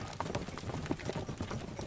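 Horse hooves clip-clop in a quick, steady rhythm, close and distinct, as a narrative sound effect of a runaway horse gaining speed.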